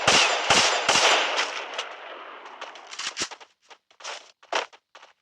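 Rapid bursts of gunfire in a battle royale video game, sharp cracks at first that thin into scattered, fainter shots and short volleys, with no talking.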